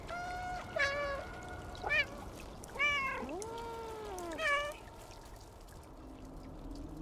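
A cat in the video game Stray lets out four or five drawn-out meows spaced a second or so apart over a soft trickle of running water, fairly close and with no talk over them.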